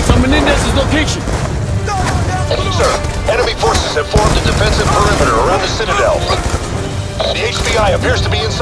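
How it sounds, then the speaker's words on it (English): Heavy minigun fire in Call of Duty Black Ops 2 is a loud, continuous rattle of gunfire with crashing impacts, running throughout while voices speak over the battle. "We're receiving heavy fire from his minigun."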